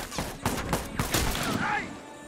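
Rifle fire in The Last of Us multiplayer, a run of sharp shots spaced across the first half and then a brief burst, close and loud over a game background.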